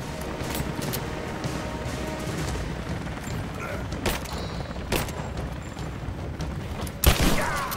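Gunfire in the video game Rise of the Tomb Raider: a few sharp, separate shots cracking at moderate loudness over a steady game-noise bed, with the last blast the strongest.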